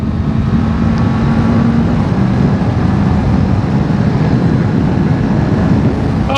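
A beginner 300 or 400 class motorcycle pulls hard on a street ride, with a loud, constant engine rumble buffeted by heavy wind noise and no talking.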